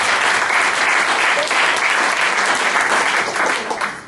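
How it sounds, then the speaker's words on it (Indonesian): A church congregation applauds loudly and steadily throughout, dense sustained clapping from many hands that eases slightly near the end. "Bolehkah kita berikan tepuk tangan yang terbaik?"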